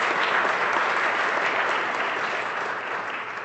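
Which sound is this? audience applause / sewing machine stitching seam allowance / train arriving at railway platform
audience applause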